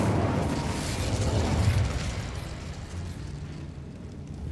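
A fiery burst from the Incendio spell in Hogwarts Legacy, a loud roaring blast that swells for about two seconds and then settles into a sustained rumbling crackle.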